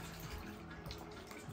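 Tap water running steadily into a baby's shower base, a close, continuous splashing rush that fills the short stretch with no talk over it.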